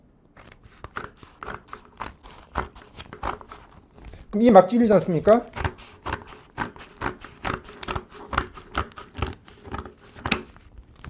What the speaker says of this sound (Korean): 제가 이거 가위로 한번 잘라 보겠습니다.